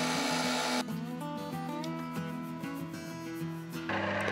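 A drill bores a 2 mm hole in a metal rod while making a homemade awl, a close, steady tonal whine that shifts pitch several times and stops briefly before resuming.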